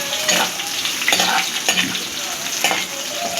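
Onions frying in oil with biryani spices, stirred in the pot: a loud, continuous sizzle with repeated scraping strokes of the spoon running throughout.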